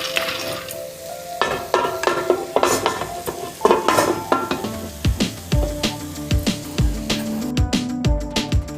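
Popcorn kernels fry in a pan alongside roasted peanuts, a busy sizzle at first, then sharp, irregular pops and thuds against the lid that grow denser toward the end.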